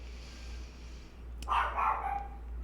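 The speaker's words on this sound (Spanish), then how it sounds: "Si escuchan a mi perro por ahí, ignórenlo." A dog barks a few times in the background partway through, moderately loud against a steady low hum in an indoor room.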